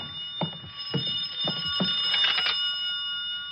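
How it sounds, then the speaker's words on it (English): A telephone rings in a radio drama: a faint, thin electronic tone runs steadily under scattered light knocks and shuffles, with no voices present. "I could hear the phone ringing from somewhere inside"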